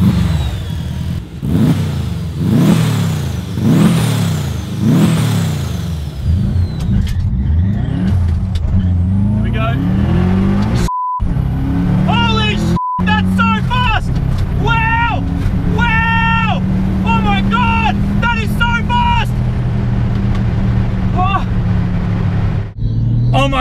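Miss Daisy, a car from Mighty Car Mods, accelerates hard down a drag strip, its engine revving in rising, repeated pulls before settling into a sustained roar, with voices talking over it.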